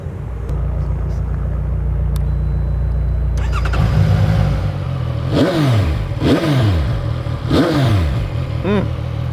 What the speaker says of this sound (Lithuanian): dabar yra pats metas paklausyti, kaip šis motociklas skamba